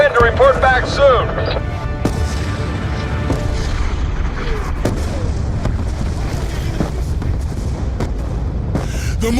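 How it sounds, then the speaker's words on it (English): Mortar fire in Call of Duty: Black Ops 2 lands as deep booms and distant blasts among a noisy battlefield soundscape, with explosions scattered across the scene and voices heard over the chaos. "The mortars have stopped!"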